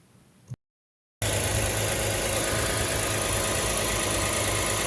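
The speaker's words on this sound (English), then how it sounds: "I'm going to start the car, and I'm actually going to test it to make sure that it's getting its proper 14 volts" A Toyota car engine just fitted with a new alternator starts after a brief silence and settles into a loud, steady idle close by, with a constant even drone and no talking.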